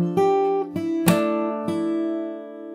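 Fingerstyle guitar plays a short passage of a song: a few plucked chords with an open-string ring and one sharp slapped hit, close and clear with no voices.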